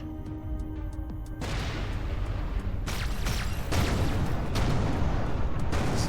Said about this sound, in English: Space explosions.